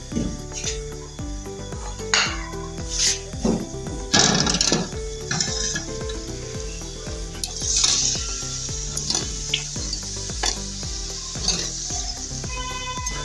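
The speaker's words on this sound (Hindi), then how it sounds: "इसके अंदर चिकन फ्राई करूँगी।" Chicken frying in oil in a pan, with a steady loud sizzle running throughout and intermittent clinks and scrapes of stirring, with no voices over it.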